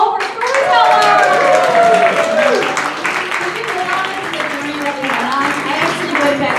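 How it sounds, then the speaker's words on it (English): An audience applauds a group of storytellers at a live storytelling event, with steady clapping and voices cheering and calling out over it throughout. "Let's give a large round of applause for all of our storytellers"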